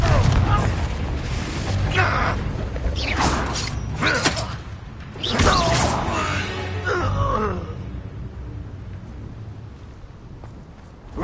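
Hogwarts Legacy combat with a Confringo blasting spell, a heavy rumbling burst and crackling impacts among other spell effects and grunts, dense and loud for several seconds before fading to a quieter ambient hum.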